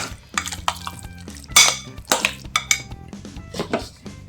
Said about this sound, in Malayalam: ഇത് ചൂടുണ്ട് അതുകൊണ്ടാണ് സ്പൂണെ കൊണ്ട് ഇതുപോലെ ഇങ്ങനെ ചെയ്യുന്നത് ആവശ്യത്തിന് വേണ്ടുന്ന കോൺഫ്ലവർ ചേർത്ത് കുഴച്ചെടുക്കാം